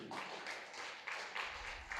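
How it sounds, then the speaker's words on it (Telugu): A crowd at a Buddha Pournami meditation gathering claps in steady rhythmic bursts, fairly loud and sustained throughout. "గట్టిగా క్లాప్స్ కొట్టండి"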